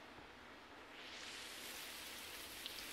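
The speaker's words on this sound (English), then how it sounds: "It sounds like it's raining." Soft, steady rain in a horror video game hisses continuously, growing slightly fuller partway through, quiet and even with no voices.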